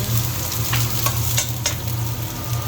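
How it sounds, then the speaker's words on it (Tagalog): Onion and garlic sizzle steadily in a hot pan for Filipino pancit, close and continuous, with a few light stirring scrapes over the frying hiss and no speech. "Yan, nagigisa na po ako, guys, ng sibuyas at bawang."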